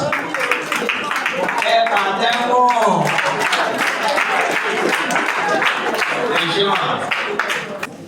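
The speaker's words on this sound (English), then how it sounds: "Round of applause, please." A crowd claps steadily through the whole stretch at a youth sensitisation program on drugs in Ajase-Ipo, with voices and a short vocal call rising over the applause.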